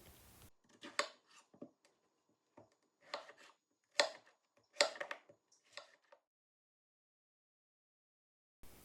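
A knife chops zucchini into pieces on a board in short bursts of several quick cuts, close and crisp against near silence.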